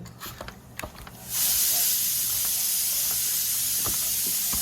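Mustard oil hits the masala in a hot pan for a paturi dish and a loud sizzle bursts up after a quiet second, then holds as an even, continuous hiss.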